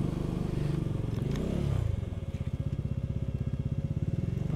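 A motorbike on a snowy mountain pass road, its engine droning steadily before settling into a fast, even pulsing idle or low-speed putter, close and moderately loud with some scraping clatter early on.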